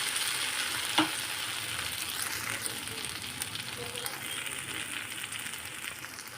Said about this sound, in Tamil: நல்லா சுண்டுற அளவுக்கு நம்ம ஃப்ரை பண்ணிக்கலாம்.